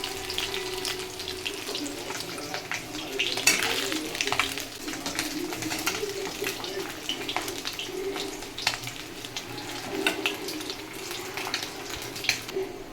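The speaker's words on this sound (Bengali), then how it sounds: "এগুলো ভাজা হয়ে গেছে বন্ধুরা এবার তুলে নেব" Bhola fish sizzles in hot oil in a pan, giving a steady, fairly quiet crackle dotted with sharper pops, with faint talk at times.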